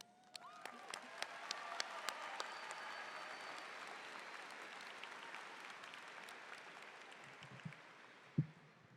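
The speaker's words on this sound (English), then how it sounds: "Everyone, please join me in applause to commend these graduates" Applause for graduates rises at a school commencement, a broad, fairly distant crowd clapping that builds, holds, and slowly fades, ending with a single sharp knock near the close.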